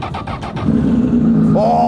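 A Honda CBR1000 Fireblade fitted with an Akrapovic titanium slip-on exhaust cranks over and fires, its starter stutter quickly becoming a loud, close idle that rises into a brief rev; a voice exclaims briefly.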